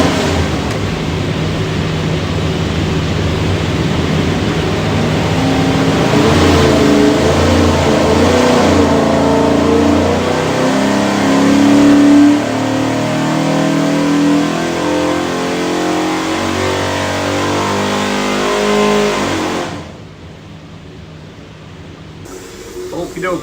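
A Ford 347 stroker V8 built for a Shelby Cobra replica, run on an engine dyno with a manifold and oil pan fitted, roaring loud and close as it pulls steadily up through the revs for about twenty seconds before cutting off abruptly.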